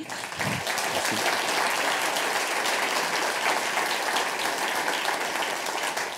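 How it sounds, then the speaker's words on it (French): A large conference audience applauds steadily and loudly throughout, a dense wash of clapping with no pauses. "Je vous demande d'applaudir encore Denis."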